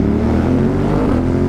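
Motorcycle engine running loud and close, a steady throaty drone with slight pitch shifts as it revs, alone without any talk.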